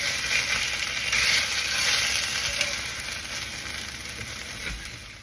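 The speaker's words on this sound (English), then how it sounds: "So I already cooked 4 steaks." Steaks cooking on an outdoor barbecue grill give a steady, close broadband sizzle and hiss that holds even throughout, with no one speaking.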